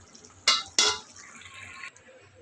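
Dried fish curry is tipped from a pan into a cooking pot with two sharp metallic scrapes close together, followed by a soft liquid pour and hiss that fade after about two seconds.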